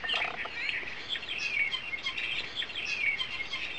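Chirps and twittering from a captive European starling, a species known for taking over other birds' nesting areas, run steadily and fairly near, with bright shifting whistles and no one speaking.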